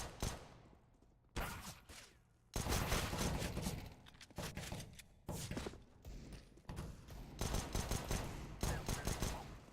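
Bursts of gunfire in Counter-Strike: Global Offensive on the Mirage map, several loud volleys separated by brief pauses, sharp automatic fire with thumping impacts over roughly ten seconds.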